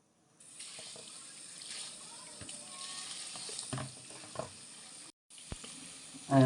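Salted crabs being rinsed in water, a steady running splash from a tap into a sink with some handling clatter, moderately close, ending in a brief louder burst.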